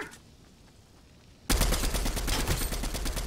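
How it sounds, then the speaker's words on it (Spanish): After a quiet stretch, a sudden burst of rapid gunfire erupts in a video game, loud continuous shots rattling like automatic weapon fire until the end. "Escucho disparos."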